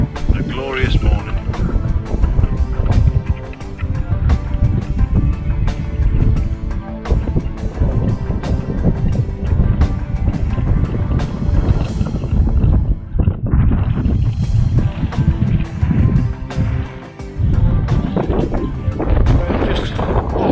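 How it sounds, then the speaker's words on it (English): Rising wind on the summit of Bowscale Fell, a loud, continuous buffeting roar against the microphone with heavy low gusts throughout, and someone speaking over it. "The wind's picking up slightly, but it's still a glorious morning."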